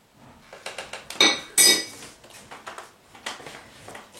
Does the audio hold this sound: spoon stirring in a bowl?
yes